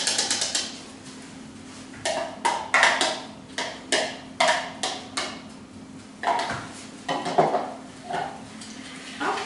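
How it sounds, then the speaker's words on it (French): Diced pear is mixed into a recipe in a salad bowl, with a series of close, rhythmic clinks and scrapes of a utensil against the bowl, about one stroke every half second. "Et je mélange"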